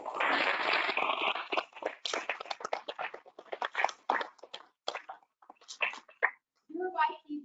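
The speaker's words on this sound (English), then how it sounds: "Can I get a round of applause," Scattered applause from a luncheon audience greeting the incoming YP board at an awards event, starting as a dense burst of clapping, then thinning into sparse individual claps before fading out, fairly faint.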